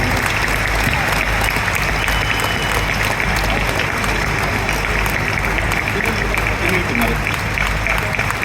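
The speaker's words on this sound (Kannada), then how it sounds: "ಮತ್ತೊಮ್ಮೆ ಜೋರಾದ ಚಪ್ಪಾಳೆ ಮೂಲಕ ಪೂಜ್ಯ ಶ್ರೀ ಸ್ವಾಮೀಜಿಯವರಿಗೆ ನಮ್ಮ ಭಕ್ತಿಪೂರ್ವಕ ಅಭಿನಂದನೆಯನ್ನು ಸಲ್ಲಿಸೋಣ" Loud, sustained applause from an audience honouring a swamiji at a devotional gathering, dense clapping filling the whole stretch with some crowd murmur underneath.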